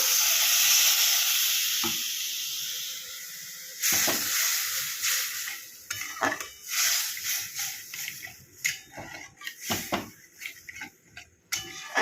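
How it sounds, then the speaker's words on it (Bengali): Water is poured into hot fried masala for an egg curry, producing a loud hissing burst at first that fades, then bubbling sizzle with scattered clatters of a spoon against the pan. "মশলা কষানো হয়ে গেছে এবার আমি জলটা দিয়ে দেবো"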